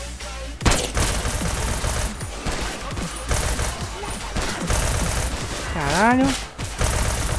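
Rapid bursts of gunfire rattle almost continuously in the GTA San Andreas video game with a zombie mod, loud and close, while a man briefly exclaims over the shooting.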